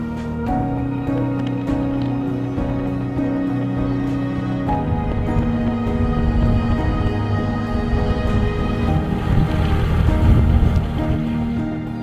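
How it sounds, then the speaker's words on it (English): A sailing yacht motors along in strong gusty wind, its engine drone steady and loud under rushing wind and water noise that swells toward the end. "I chickened out of sailing into Drumbuie this time, and I stuck the motor on"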